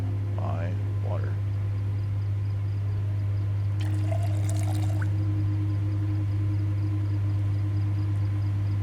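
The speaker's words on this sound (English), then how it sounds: "I'm gonna keep an eye on that while I refill my water" Water is refilled in a rainy roleplay video game, a brief pouring trickle rising in the middle over a steady low background hum.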